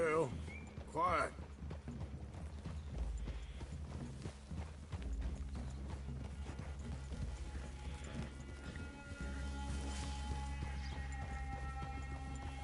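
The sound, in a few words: horses' hooves clip-clopping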